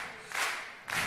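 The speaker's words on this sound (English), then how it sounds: "Come on. Clap." An audience at a 2005 Red Bull BC One beatbox show claps along in time. Two strong, even bursts of group clapping land roughly half a second apart, loud and close, with no talk.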